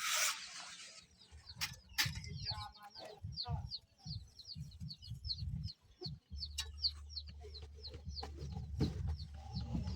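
Chickens cluck and chirp repeatedly near a rural Thai coop, with a low hum and scattered knocks beneath and a person talking intermittently.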